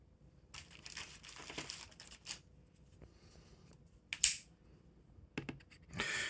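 A Mastfuyi MK06 multimeter comes out of its plastic wrap with soft, intermittent crinkling and rustling, including a few sharper crackles, heard close up in a quiet room.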